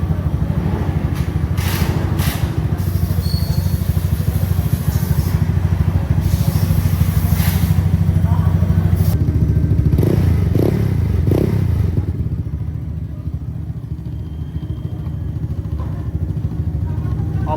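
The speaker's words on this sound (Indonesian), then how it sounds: "Mesin udah nyala, adem." Bore-up Honda Vario 125 scooter engine idling with Giro exhaust and unbolted body panels, a steady rattling drone close by, clattering, with occasional knocks and scrapes, briefly quieter near the end; someone speaks over it.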